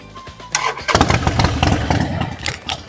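A red 2019 Harley-Davidson Sportster 48 with about 4,800 km fires up after a short starter crank, then settles into a loud, close, throbbing idle with a quick rev.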